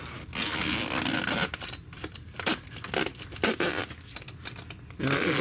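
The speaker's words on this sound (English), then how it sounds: "We're going to grab the zipper here." A zipper on a Vermibag worm compost bag is pulled open in a series of close, raspy zipping strokes with small scrapes and pauses between pulls.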